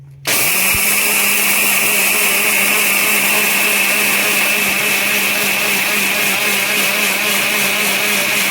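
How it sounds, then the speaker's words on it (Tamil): A kitchen mixer grinder whirs loudly and steadily as it grinds pearl millet batter, starting abruptly after a brief low hum and then holding a constant high-pitched motor whine for several seconds, with no voices. "இப்போ வாங்க அரைச்சிக்குவோம்."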